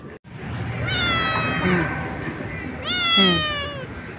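A cat, one of a neighbor's backyard cats with kittens, gives two drawn-out meows, the first near the one-second mark and the second around three seconds, close and clear over low background noise.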